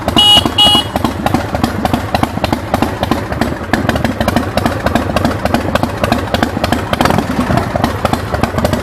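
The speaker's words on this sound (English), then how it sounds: "It's even got a horn." A 2003 Iron Horse Slammer motorcycle with a 113-inch S&S motor and six-speed transmission sounds a short, bright honk at the start, then its engine keeps up a loud, close, rumbling idle.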